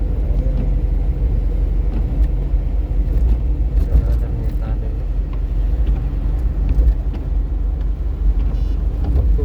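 A car rolls through an underground highway tunnel in Hong Kong, a steady loud low rumble of engine and road noise filling the enclosed space throughout, with faint voices in the background.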